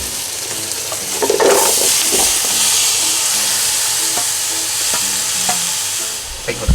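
Daikon and carrot sizzle and hiss steadily as they are stir-fried in a pot with pork for pork miso soup, with repeated clinks and scrapes of stirring and a brief spoken word.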